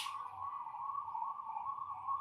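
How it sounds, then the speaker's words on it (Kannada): A steady, wailing ambulance siren sounds from a distance, holding a sustained tone above faint background rumble. "ಆಂಬುಲೆನ್ಸಾ ಆಂಬುಲೆನ್ಸ್ ಯಾರಿಗೂ ಏನೋ ಆಗಿದೆ"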